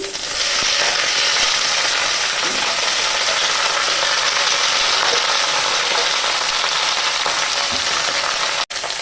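Cabbage hisses and sizzles loudly in a hot pan with onion, garlic and ginger already browned, a dense continuous frying crackle with a sharp clatter near the end.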